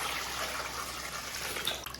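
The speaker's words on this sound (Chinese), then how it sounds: "然后给它加上适量的清水" Water poured over trimmed oyster mushrooms in a bowl for washing, a soft steady stream splashing for a couple of seconds, fairly quiet and close.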